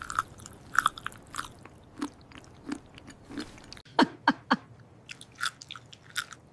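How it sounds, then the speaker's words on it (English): Close, crisp bites and chewing on a peppered fried egg, a series of short crunchy, moist snaps repeating at an irregular pace with no talking over them. "I take a bite."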